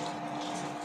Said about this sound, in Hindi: ये देखिए इसमें पानी की आवाज़, गिरने की आवाज़ नहीं आएगी, सिर्फ पानी की आवाज़ आएगी।